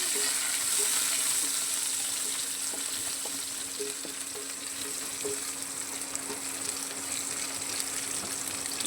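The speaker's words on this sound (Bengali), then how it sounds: "ভালো করে একটু ভেজে নেবো" Chopped onion and soybean frying in a pan, a dense, even sizzle running throughout with soft scraping stir sounds and a faint steady hum beneath, no one speaking.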